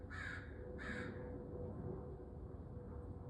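Crows cawing outdoors: two harsh caws in quick succession, moderately distant, over a steady background hum.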